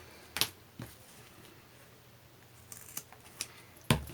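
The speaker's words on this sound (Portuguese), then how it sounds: "só agora eu cortar ao meio e cortar os pontinhos" Scissors snipping through zipper ends and loose threads while finishing a zipper for a sewn beach bag; sparse, sharp close-up clicks and snips separated by quiet pauses.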